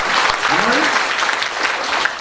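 Applause from a school audience at a book unveiling meeting at Amguri Girls' High School, a steady dense patter of many hands filling the whole moment with some voices mixed in.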